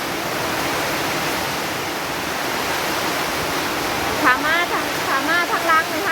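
Heavy rain and strong wind make a loud, continuous wash of broadband roaring noise that stays steady throughout, with a faint voice briefly rising above it near the end.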